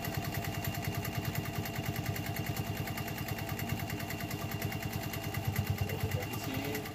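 A Pfaff 130 sewing machine runs fast, giving a rapid, even mechanical chatter of needle strokes that continues steadily for the whole stretch at moderate volume.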